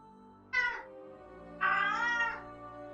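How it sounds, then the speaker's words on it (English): A cat gives two drawn-out meows indoors, a short one and then a longer, rising and wavering cry. The calls are fairly quiet and close, with soft background hum and no speech over them. "What would my videos be without friendly cat alarms, huh?"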